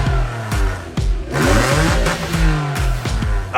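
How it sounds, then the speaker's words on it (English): An Acura NSX engine revs hard and close, rising and falling through several sharp throttle blips and sweeping pitch changes, loud and alone with no talk. "Oh yeah, that is an Acura"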